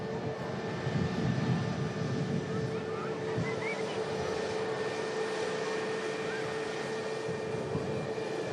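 An Airbus A380 lands on runway 23 at Manchester Airport as a steady, broad jet engine roar, heard from a distance with wind noise and no clear rise or fade.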